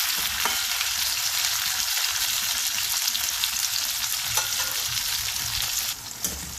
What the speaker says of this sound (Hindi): भिंडियों को हाई फ्लेम पर फ्राई कर लेंगे, इस तरह से घुमा घुमा कर